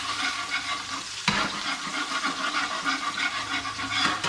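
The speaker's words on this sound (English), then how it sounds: "Now when you're cooking up this egg, you're going to have to keep it moving." An egg fries in a cast iron pan while a metal spatula keeps pushing it around, with continuous close sizzling and a sharp scrape near the start.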